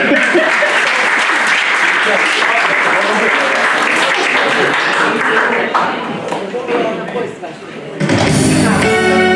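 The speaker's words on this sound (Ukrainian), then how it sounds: "Ну нічого, оплески, будь ласка." An audience at a Holy Trinity parish feast day bursts into loud, close applause that rolls on strongly for several seconds, then thins and dies away before a voice takes over.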